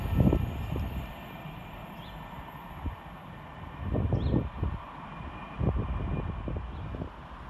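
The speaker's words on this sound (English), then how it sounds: "starting off on the low level is 221110 and 221115" Two trains, units 221110 and 221115, pull away on the low level at Tamworth railway station: a rumbling low engine roar swells and ebbs, with wind buffeting the mic and faint high squeals from the track.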